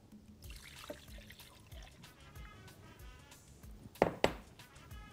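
Milk is poured over a quarter-kilo block of cheese and a tub of yogurt in a kitchen, giving a soft, steady trickle with a couple of louder splashy bursts near the end, no talking.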